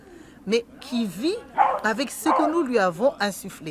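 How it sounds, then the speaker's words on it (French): A dog barks and yips several times in the background, sharp and fairly loud, while someone speaks over it. "Et en voilà justement un qui aboie derrière."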